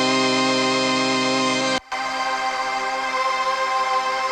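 Synth pads with a drip-style effect plugin: a sustained, harmonically rich chord that cuts out briefly, then returns thinner and more washed with a smeared, dripping texture, played alone without any voice.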